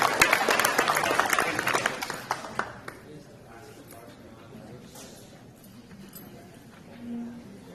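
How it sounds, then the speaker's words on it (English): A burst of clapping from a crowd at a high school signing day fills the first few seconds, then fades away into quiet background noise. "Give a round of applause again."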